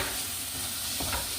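Tomatoes frying in a pan for salna, a steady close hissing sizzle with light stirring scrapes throughout, alone without talk.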